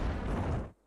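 A grenade explosion in Counter-Strike 2 bursts as a dense, loud, rumbling roar that holds for most of a second and then cuts off abruptly into near silence.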